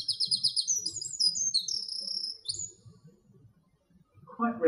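A small bird sings a rapid series of high, sweet chirping phrases in woodland, heard faintly over low background rumble before the song stops and a lower sound enters at the end.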